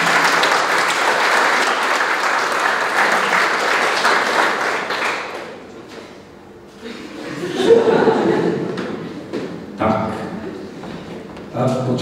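Audience applause at the central round of the 53rd Biology Olympiad award ceremony, dense clapping for the first half that fades, followed by scattered laughter and murmuring voices with a few renewed bursts of claps.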